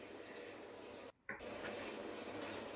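Hot water pours from a mug for pickle brine, a soft, continuous gushing stream that breaks off briefly in a short pause and then resumes, with no talk.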